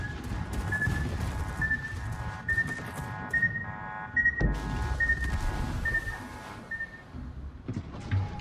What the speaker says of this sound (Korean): 딩딩딩, 파이어 알람.